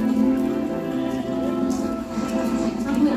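Steady rain hisses continuously at an animal park with emus, macaws and merino sheep, with faint tonal hum and distant voices underneath.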